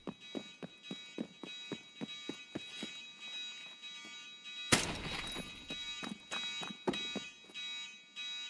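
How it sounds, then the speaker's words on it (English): Repeated alarm beeps sound in steady pulses through a match of the video game Escape from Tarkov, interrupted midway by a loud burst of noise before the pulsing resumes. "here comes the alarms"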